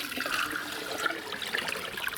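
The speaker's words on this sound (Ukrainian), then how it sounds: "От сюди ми все це і виливаємо" Water from a bucket, filled from an 80-litre container, is poured out in a yard, making a steady close splashing gush that lasts the whole moment with no talking.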